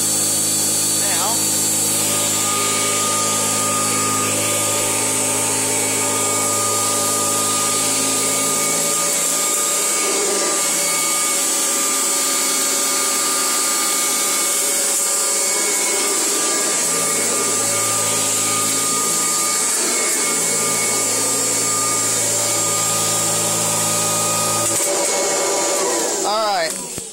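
A 1984 Kirby Heritage 2 vacuum cleaner runs steadily with a loud, constant motor whine and airflow drone, cutting off near the end.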